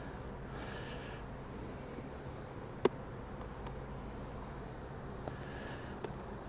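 Honey bees hum from an opened hive full of field bees during early fall management, a faint, steady, even drone with a few sharp clicks and ticks.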